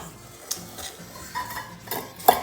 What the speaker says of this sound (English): Then we put in our sugar. Give it a little stir.